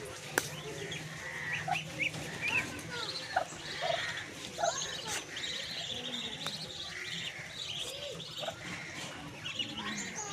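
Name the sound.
Muscovy (Chinese) ducks with 15-day-old ducklings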